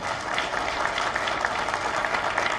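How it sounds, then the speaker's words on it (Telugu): Audience clapping at a political BC community meeting, a short burst of dense, even applause from a crowd, moderately loud. "ఒక్కసారి మురళీ మనోహర్ సార్ గట్టిగా చప్పట్లు కొట్టాలి మనం"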